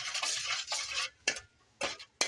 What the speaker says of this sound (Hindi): अब हम अच्छी तरह से पहले मिक्स कर लेंगे